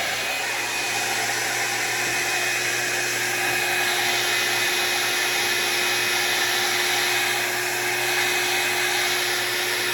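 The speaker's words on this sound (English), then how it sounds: "I'm gonna use the blow dryer on it." A blow dryer runs continuously on a glued wig lace during a wig install, giving a steady, loud whooshing hum with a fixed motor whine that holds even throughout, no voices.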